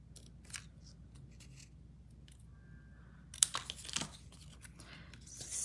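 Scissors snip through paper during card making, several crisp cuts and a rustle of paper clustered together near the end after a quieter stretch, close and alone with no talking.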